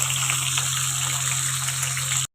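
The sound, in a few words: pouring cold-pressed kachchi ghani mustard oil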